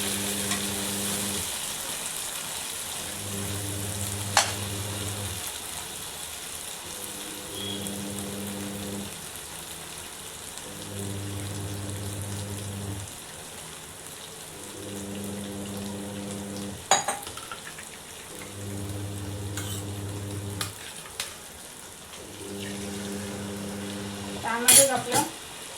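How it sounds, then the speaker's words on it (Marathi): Ground masala paste sizzles steadily as it fries in a pan for a capsicum gravy curry, with a spoon occasionally clinking and scraping against the pan under looping background music. "आता आपला जो वाटलेला मसाला आहे तो सुद्धा त्यात टाकायचा आणि परतवून घ्यायचा"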